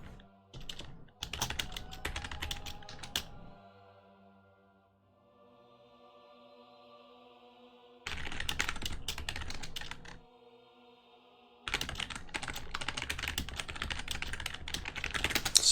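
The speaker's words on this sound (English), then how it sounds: "Sorry for the typing, folks." Bursts of rapid computer-keyboard typing during a Heroes of the Storm esports match broadcast setup, loud and close, separated by quieter stretches with a low hum and faint tones.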